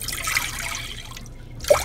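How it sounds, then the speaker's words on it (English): Two cups of water poured into a cooking pot for parboiled rice, a steady close trickle and splash running throughout and ending with a brief louder splash. "So we're going to add 2 cups of water."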